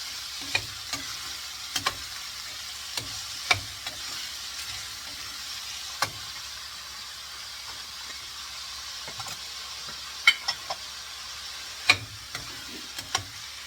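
Onions frying to golden brown in a pan give a soft, steady sizzle broken by scattered spatula taps and scrapes from stirring, fairly quiet and close.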